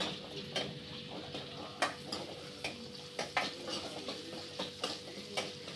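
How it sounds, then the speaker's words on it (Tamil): Shallots and curry leaves are sautéed in a pan for anchovy curry, giving a soft sizzle under repeated scraping stir strokes of a spoon at an uneven rhythm, fairly quiet and close. "அதையும் போட்டுக்கலாம் நல்லா வதங்கட்டும்"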